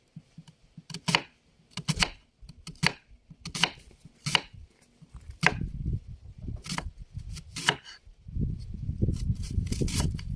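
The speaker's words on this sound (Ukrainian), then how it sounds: "Цибульку кришим кольцями." A knife chops an onion into rings on a board in quick bursts of crisp taps, separated by short pauses, with some rustling handling noise toward the end.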